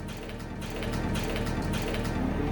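A homemade free-energy motor machine runs with a steady mechanical ratcheting whir, its repetitive clicking gear-like pulses continuous and fairly close, with no voices.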